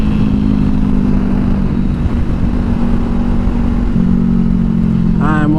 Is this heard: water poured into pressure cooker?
no